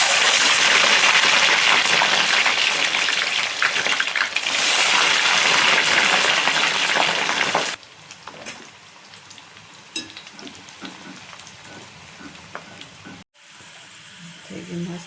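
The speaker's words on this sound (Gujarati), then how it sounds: "તેલ થઈ ગયું આપણું તળી લઈએ" Food frying in hot oil, a loud dense sizzle for about half the time, then dropping to a quieter crackle with faint clatter.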